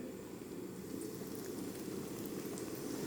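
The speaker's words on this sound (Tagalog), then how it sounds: "Ilalagay na natin isa-isa yung ating chicken nuggets, Chicken nuggets. Tapos iprito na natin." Chicken nuggets drop into hot oil over high heat, giving a steady, dense bubbling sizzle that holds evenly throughout, close and moderately loud, with no voices.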